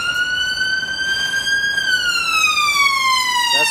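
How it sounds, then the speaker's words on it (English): A loud, continuous emergency-vehicle siren holds a steady tone, then slowly glides downward as it passes, with faint street noise underneath. "Okay, bring in the ambulance."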